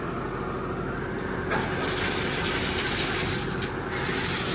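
Hotel bathroom shower running at strong pressure, a steady broadband hiss of spraying water with slight shifts in intensity, close and continuous with no talk.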